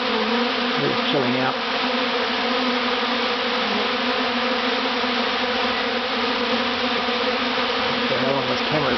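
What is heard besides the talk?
bees swarming around the speaker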